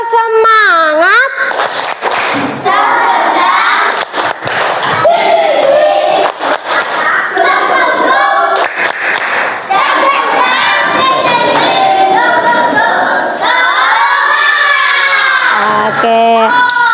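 Schoolchildren in an Indonesian classroom shout a rhythmic cheering clap chant together, loud and close, with sharp claps and high voices filling the room, rising and falling in bursts across the whole stretch.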